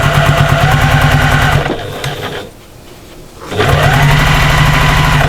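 Sewing machine stitching together the stabilized fabric pieces of a cross body bag, running loud and steady, then pausing for about two seconds before resuming at full speed.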